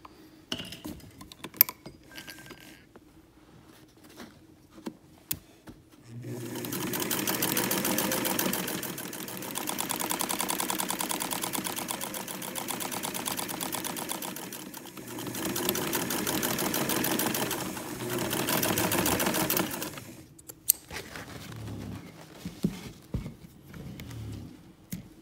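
A sewing machine stitches a seam with a half-inch seam allowance. After a few quiet handling clicks it runs in a steady, close whir for about fourteen seconds, then stops.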